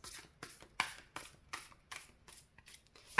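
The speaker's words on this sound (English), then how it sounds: "that's why I don't prefer shuffling on camera, because it can be a long and wearisome process" Tarot cards riffled in a steady series of soft, crisp shuffling bursts, about two per second, close and quiet, with no voice.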